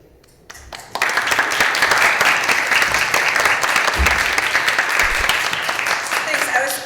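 Audience applause at a symposium opening breaks out suddenly after a quiet moment and continues as a steady, dense clapping from a sizable crowd.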